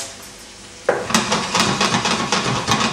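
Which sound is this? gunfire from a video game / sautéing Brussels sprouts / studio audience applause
sautéing Brussels sprouts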